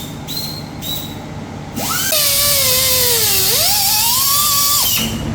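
A power tool trims the fender where a 245-width, 9.5-inch wheel rubs on a 2001 MR2 Spyder. It gives a loud, close, high whine that swoops down and back up in pitch for about three seconds, then cuts off.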